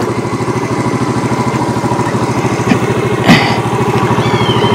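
A motorbike engine idles and revs with a steady, close putter in a narrow alley, running continuously and loudly throughout with a brief sharper burst near the middle.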